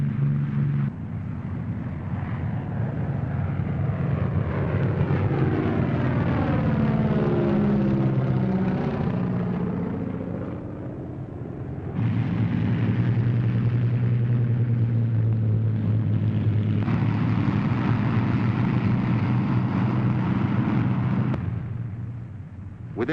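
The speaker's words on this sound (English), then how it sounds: "Planes are taking off at the same time from dozens of widely dispersed fields all over England." WWII bomber planes taking off from airfields in England, a loud sustained engine roar with a sweeping pitch as aircraft pass, dropping briefly and then returning in a second heavy drone.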